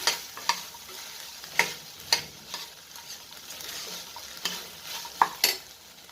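Chana masala fries with a low, steady sizzle as a spatula stirs it, knocking sharply against the pan in irregular clicks; no voices.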